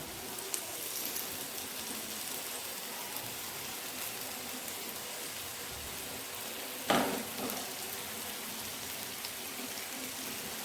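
Paneer tikka pieces frying in a pan over a low flame give a steady, even sizzle throughout, with one brief louder crackle partway through and no talking.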